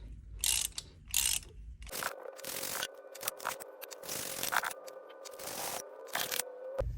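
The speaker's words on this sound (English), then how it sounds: "I'm gonna just start loosening the head bolts and then get the head off." Wrench working head bolts loose on a 75-year-old Plymouth 218 inline six engine: close, repeated metallic ratcheting and clicking bursts with a steady underlying tone, mostly continuous with short pauses, no talk.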